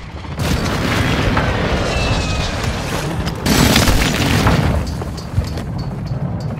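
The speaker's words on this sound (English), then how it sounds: "Target acquired. Strike in." Airstrike explosions in Call of Duty DMZ, loud deep booming blasts rolling into a long rumble with a second heavy impact midway, dense debris noise throughout.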